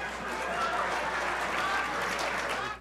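A debate audience booing, a dense sustained crowd roar of voices with some clapping mixed in, loud and continuous throughout.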